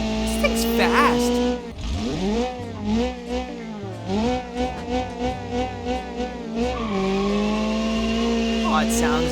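A BeamNG race car with an inline-4 engine revs hard in quick bursts, pitch climbing and falling through repeated throttle blips and shifts, with tire squeal mixed in, loud and near.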